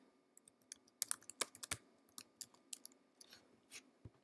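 Fingers tapping on a computer keyboard while entering a name into a wireless access point's settings, a quiet irregular run of close clicks and keystrokes with no talking.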